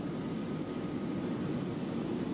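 Inside the cabin of a small aircraft flying out to the ice, a loud, steady engine roar fills the space without a break or any voices.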